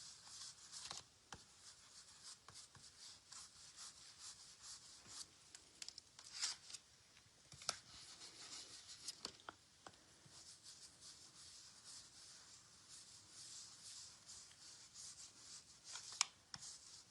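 Paintbrush sweeping yellow paint over a green surface, soft scratchy bristle strokes repeating in an uneven rhythm, quiet and close with no one talking.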